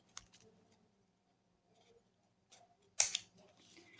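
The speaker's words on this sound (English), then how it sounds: "I do suggest you get a detailing scissors because it will give you that cleaner, neater finish, and just cut off any excess paper." Small detailing scissors snipping excess paper while finishing a journal tag, a quiet close snip followed by a sharper, louder cut near the end, with faint paper handling in between.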